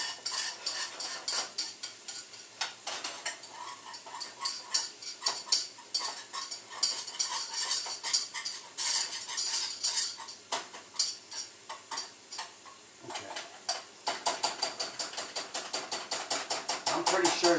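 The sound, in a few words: stirring a mixture with a wooden spoon instead of a whisk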